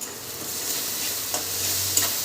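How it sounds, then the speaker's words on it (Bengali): Onion paste sizzles in a hot pan while being stirred, a steady close frying hiss with a few brief scraping strokes of the spoon. "পেঁয়াজ বাটা দিয়ে এবার একটু নাড়াচাড়া করে নিচ্ছি"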